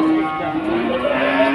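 A low, drawn-out cow moo rises over a busy background murmur of voices and movement at a cattle market.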